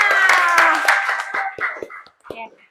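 Audience clapping hands briefly in a classroom-style setting, a short burst of scattered applause fading into a few separate claps, heard over a sung or tonal voice at the start.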